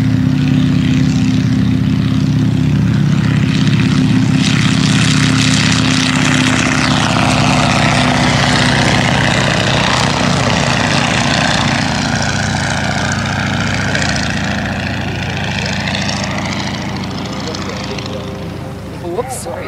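A biplane's propeller engine roars loud and close at a pioneer-era airfield, a sustained buzzing drone that slowly fades as the aircraft moves off, with people talking nearby.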